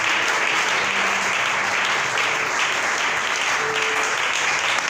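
An audience applauding to acclaim the Holy Spirit at a sermon, a dense, steady wash of clapping from many hands lasting the whole time, loud and even, with no voices over it.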